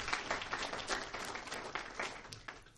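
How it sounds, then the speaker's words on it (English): A spelling bee audience at the Wayne County Spelling Bee claps in a dense, even burst of applause, fairly faint and distant, lasting a few seconds with no talk over it. "Let's give him a big round of applause."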